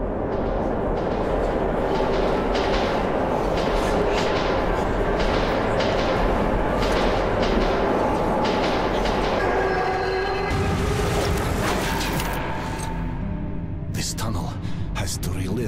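A ghost train in the Metro 2033 Redux game rolls loudly through an underground metro tunnel, with a heavy continuous rumble, clattering wheels and metallic screeches rising near the end, all mixed with talking.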